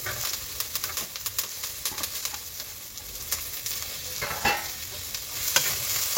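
Green chillies and other ingredients fry in a pan, a steady hiss broken by stirring scrapes and scattered pops, close and fairly loud, with nobody speaking.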